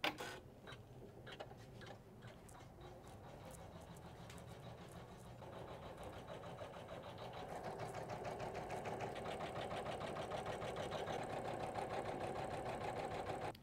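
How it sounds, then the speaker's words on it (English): A Janome 500e embroidery machine stitches a tack-down line, a fast steady mechanical ticking and whirring that starts after a few clicks and grows slightly louder, heard alone at close range. "we're gonna do a tack down for the center. So I'll put my presser foot down and here we go."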